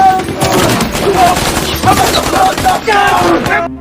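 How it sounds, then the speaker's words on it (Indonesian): Loud, dense gunfire from a war film battle between police and ISIS fighters, with rapid overlapping shots and bursts forming a continuous clatter, layered over other soundtrack noise. "terdengar suara tembakan dari arah lain"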